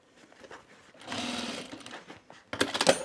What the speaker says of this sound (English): It's just a top stitch for decoration and to flatten out that seam allowance.